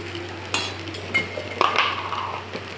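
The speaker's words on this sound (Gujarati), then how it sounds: "હવે આપણે પાછું એને બધું મિક્સ કરી દઈએ।" Batata poha with spices, sugar and lemon juice gets mixed in a pan, making a few scattered scrapes and light metallic clinks of a spoon against the pan, close and fairly soft.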